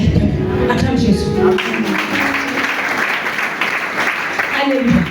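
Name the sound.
congregation applauding and cheering in church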